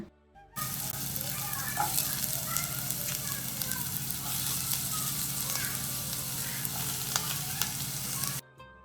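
Chicken sizzles and fries steadily in a pan, a dense continuous crackle with scattered pops, close and fairly loud, starting abruptly and cutting off near the end.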